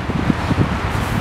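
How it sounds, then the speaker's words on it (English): Outdoor wind gusts across the microphone beside a cargo trailer being converted, producing low rumbling buffets that rise and fall over a constant broad hiss, with no voices. "it's a little windy out here"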